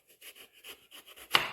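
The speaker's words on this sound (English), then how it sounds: "So we cut the two ends off." A knife saws through the ends of an eggplant on a cutting board, with a run of quick rasping strokes followed by a sharper final cut, close and quiet.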